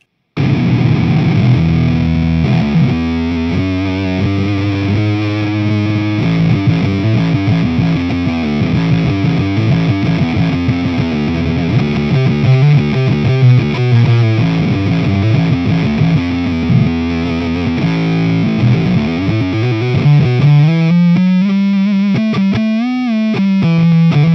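Heavily overdriven electric guitar through a Boss OC-3 Super Octave pedal with a deep sub-octave doubling, played continuously with thick, growling sustained notes and riffs, no voices.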